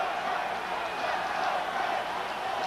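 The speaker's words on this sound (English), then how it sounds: "As we hear the crowd cheering for Frank Reich to get this team going" A football stadium crowd at a 1994 Vikings versus Bills game roars in a steady, distant wash of cheering and noise, with no distinct individual voices.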